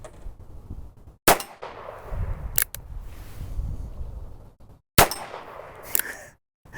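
A suppressed Heritage Tactical Cowboy revolver fires twice, each shot followed by a sharp metallic clang of the bullet striking a steel plate, spaced a few seconds apart over low outdoor background noise.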